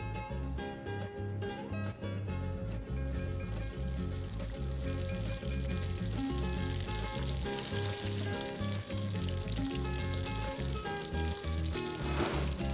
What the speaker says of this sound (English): fry this garlic in some butter and olive oil